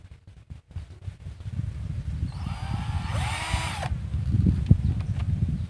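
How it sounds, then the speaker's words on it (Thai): A power drill bores into wood for a pig pen gate, one steady whining burst of about a second and a half in the middle, close and fairly loud over a low background rumble. "จะเจาะเลยนะครับ"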